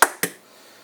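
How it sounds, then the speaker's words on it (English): Two sharp cracks close together as hard-boiled egg shells are broken, each brief and crisp with a short decay, close up and quiet otherwise. "Now you crack the eggs"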